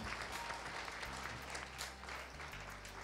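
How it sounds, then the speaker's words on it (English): Audience applause in a hall at a media recognition award ceremony, a steady wash of many hands clapping throughout at moderate distance, with no voices standing out. "please help me clap for these people"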